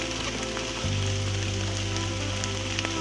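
Steady rain falls on Mount Masurai in Sumatra, a dense, continuous patter close by, with a low steady hum rising partway through and no voices.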